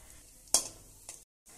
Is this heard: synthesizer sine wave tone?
no